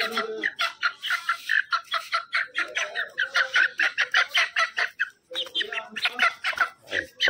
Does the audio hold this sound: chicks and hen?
yes